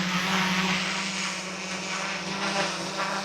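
A DJI Air 3S drone hovers in the rain, its propellers giving a steady, close, whirring buzz with a constant tone and a wash of rain noise, no voices present.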